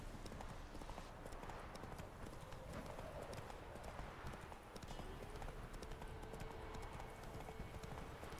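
Horse hooves in The Witcher while riding, a steady rhythmic clip-clop of galloping hooves throughout, fairly close, with a voice speaking quietly underneath at times.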